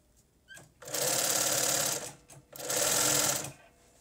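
Sewing machine stitching a French fell seam, running in two bursts of about a second each with a rapid whirring hum and a short pause between, close and clear with no talking.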